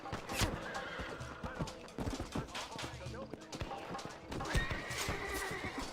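A horse neighs loudly among clip-clopping hooves and busy game sounds in the video game Red Dead, with a voice talking at times underneath.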